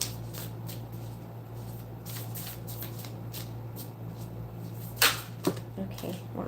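Tarot cards are shuffled and drawn in soft repeated riffles over a steady background hum, ending in a couple of sharper card snaps near the close.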